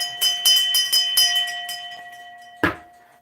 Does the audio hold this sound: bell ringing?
yes